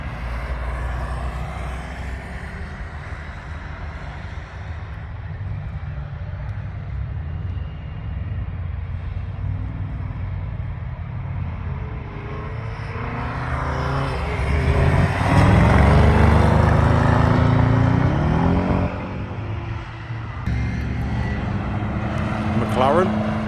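Cars including a Porsche and a GT350 lapping an American muscle car track day at Three Sisters race track, with a steady engine rumble that swells loudly as a car passes near mid-way, then settles again.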